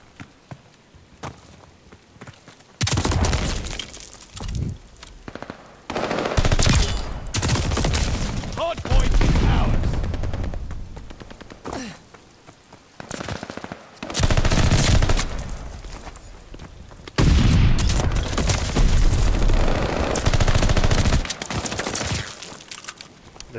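Rapid machine gun bursts in a multiplayer shooter game during a fight over a hardpoint, loud and repeated in several long volleys with short gaps, with voice callouts heard between the bursts.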